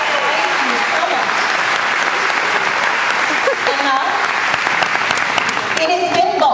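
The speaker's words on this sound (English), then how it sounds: "Moms, Dad, give these boys and girls a round of applause." Loud, sustained applause from an audience of parents for kindergarten graduates at a school graduation ceremony, a dense, steady wash of clapping with some voices and cheers mixed in, continuing throughout.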